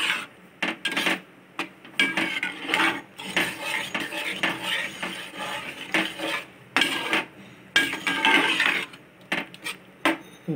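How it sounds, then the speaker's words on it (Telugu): A spoon stirring coriander powder and garam masala into dal khichdi in a pot, with repeated scraping and clinking of metal against the vessel in an uneven rhythm, close and fairly loud, no voices. "ఒక స్పూన్ ధనియాల పొడి, గరం మసాలా, వేసి కలుపుకుందామండి దీన్ని."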